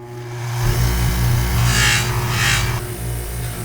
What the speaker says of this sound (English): We're going to use this polisher to clean them up.